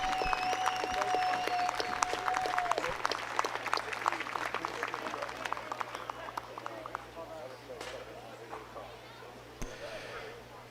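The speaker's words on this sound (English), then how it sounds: "please join me in giving them all a round of applause for all they do." Crowd applause at a men's major softball World Series championship, a steady spread of clapping from an outdoor crowd that holds for several seconds and slowly thins toward the end, with a whistle-like tone early on.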